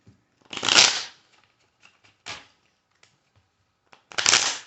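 Tarot cards being handled and shuffled at close range: two long riffling bursts bracket a short flick of cards, with quiet pauses between and no talking.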